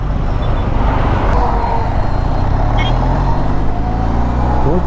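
Dense highway traffic roars steadily around a motorcyclist on a highway near Salem, with cars, trucks and buses passing close and a continuous loud road rumble throughout.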